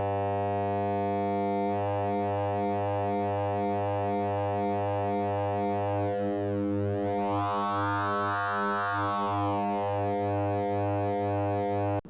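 A detuned triangle-wave phase-modulation synth tone from a Pure Data patch sustains steadily, rich in harmonics, with slow beating and a sweeping shimmer in its upper partials; no voice.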